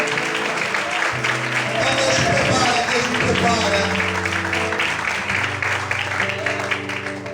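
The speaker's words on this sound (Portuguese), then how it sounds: "Você pode aplaudir o Senhor?" Sustained clapping from a church congregation during worship fills the room, with voices and musical tones running beneath the steady applause.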